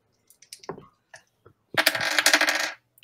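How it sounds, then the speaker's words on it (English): Dice tumble during a tabletop game: a loud one-second rattle of hard pieces clattering on a surface follows faint scattered clicks and handling noises. "Roll the dice."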